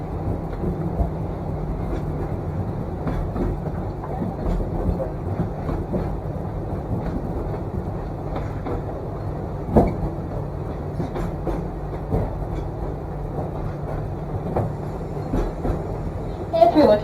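A Disney Rafiki train carrying riders from Africa rolls along its rails with a steady low rumble and occasional sharp clacks, while a person talks over the running noise.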